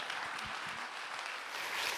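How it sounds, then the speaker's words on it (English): Applause from the audience at a global financial leaders' investment summit panel, moderately faint and diffuse crowd clapping that runs steadily throughout, with a brief low murmur near the start. "for all of you to put your hands together to have had applause"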